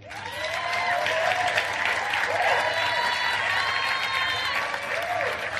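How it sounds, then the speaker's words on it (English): Church congregation clapping during a sermon, loud sustained applause filling the whole stretch, with voices calling out and cheering over the clapping. "Okay, clap for yourself."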